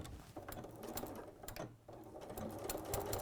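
A sewing machine runs a straight seam across fabric, its needle chattering in a fast, close rhythm with a short pause midway before stitching resumes.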